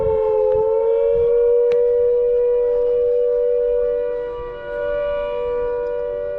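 An air raid siren wails outdoors with a steady, sustained tone that slowly rises and falls, loud and continuous, with faint background noise and a brief knock beneath it.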